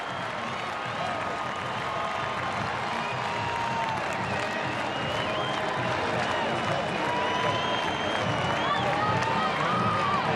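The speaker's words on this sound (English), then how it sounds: "They are standing and cheering here in Lawrence, Kansas." A football stadium crowd in Lawrence, Kansas stands and cheers for the Kansas Jayhawks, a steady, loud roar of voices and applause that holds for the whole stretch.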